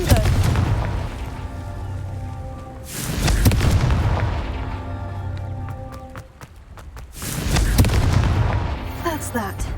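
Confringo spell blasts in Hogwarts Legacy erupt as heavy booming explosions, three big bursts a few seconds apart, each with a rumbling tail and crackling debris, loud and close.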